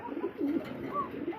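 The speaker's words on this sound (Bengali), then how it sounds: "কবুতরটা অনেক ডাকাটাই করতেছে।" A male Telmark Tiger pigeon coos close by, a few low rolling coos in quick succession that stand out clearly over a quiet background.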